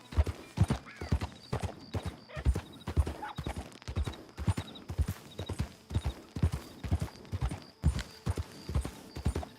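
Horse hooves in Red Dead Redemption 2 clip-clopping at a steady walking gait, with crisp, regular close-up hoof strikes and a faint whinny.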